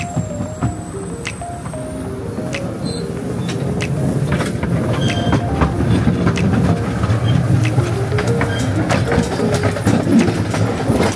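Wulai log cart train riding the tracks, a steady rumbling roll with rhythmic clacking and occasional squeals, growing louder over the ride with no talk.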